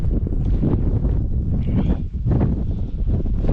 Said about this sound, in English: it's just too windy